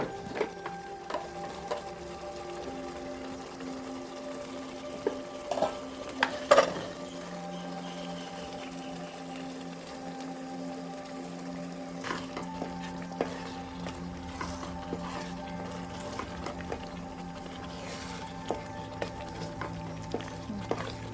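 Green paste cooks in a pot for mutton biryani while a spoon stirs it now and then, giving a quiet, low sizzle with soft scraping taps over a faint steady hum.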